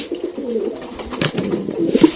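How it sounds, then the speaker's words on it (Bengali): Pet pigeons coo in low, throaty repeated calls close by while being fed, several soft rolling coos overlapping over about two seconds. "আমাদের পায়রাগুলো তো এখনো পেট ভরেনি পায়রাগুলোকে এখনো খাওয়াতে হবে"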